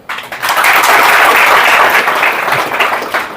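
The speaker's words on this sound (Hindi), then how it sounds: "इनके लिए ताली नहीं बजाएंगे आप?" A seated audience at a spiritual motivational talk bursts into loud, full applause after a brief quiet start, the dense clapping swelling quickly and holding steady, then tapering slightly toward the end.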